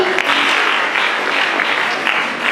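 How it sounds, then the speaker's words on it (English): Schoolchildren at a school prayer day clap together for a classmate, a loud, close, steady burst of group clapping. "Can you clap for Mora?"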